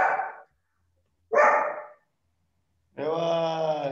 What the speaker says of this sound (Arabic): لمين هيدا الكلب؟